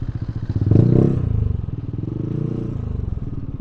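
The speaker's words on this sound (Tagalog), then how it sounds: "Ayun may mga motor na doon sa dulo" Motorcycles with aftermarket open-pipe exhausts idle and rumble steadily nearby, with a louder surge of engine noise early on before settling into a continuous throbbing drone.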